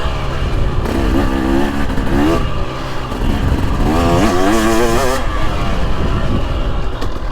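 A 2023 Husqvarna TX300 Heritage Edition off-road motorcycle rides along a choppy straight in fourth gear, its engine a loud, steady buzzing drone that rises and falls as the throttle rolls on and off, with brief revving surges.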